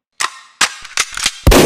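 Loud gunshot sound effects in a Team Fortress 2 audio drama, several sharp bangs in an uneven burst, the last one heaviest and booming, with no talk over them.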